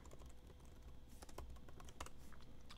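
Fingers type on a computer keyboard, a quick irregular run of soft close key clicks at low volume, with no talking.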